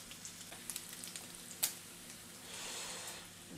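Bacon frying in a pan on a hot hob, a faint steady sizzle with a few soft pops and a brief stir or clatter, no talking.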